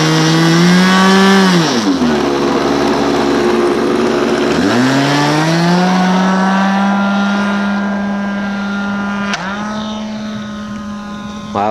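A loud F-22 Raptor engine in a flight simulator revs up and down in strong sweeping surges, pitch dropping and climbing again, then settles into a steady high drone with a brief blip near the end.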